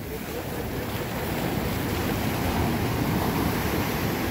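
Ocean surf washing steadily onto a North Carolina beach on the Outer Banks where people are surf fishing, a continuous broadband roar with wind buffeting the microphone and no voices.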